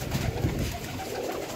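VIP flying pigeons coo softly up close, a short stretch of low, throaty calls overlapping with faint background noise.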